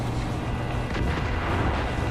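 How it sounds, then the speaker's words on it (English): A massive bomb blast with a rising mushroom cloud in the video game Far Cry 5, heard as a steady, deep, loud rumbling roar that swells slightly and fills the whole stretch without letting up. "a big mushroom cloud appeared behind him. Is that another bomb?"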